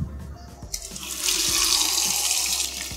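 Sweet potatoes with dry, earth-caked skins being washed under a running tap, the water starting after a short pause and then pouring steadily and fairly loud into the sink.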